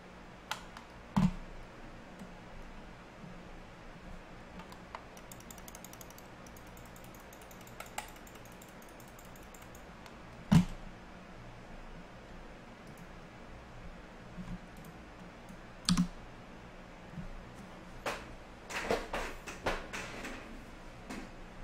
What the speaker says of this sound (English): Yeah, that's my mechanical keyboard.